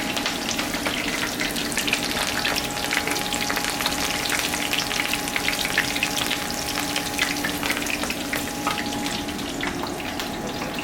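Tempura pieces frying in hot oil, a dense, steady sizzle and crackle that runs close and continuous with no voices.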